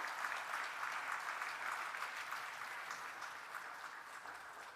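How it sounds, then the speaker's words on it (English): Audience applause welcoming a speaker to the podium at a church-hosted international symposium, a steady dense wash of clapping from a large seated crowd held at an even level throughout. "Please welcome Dr. Coakley with a warm applause."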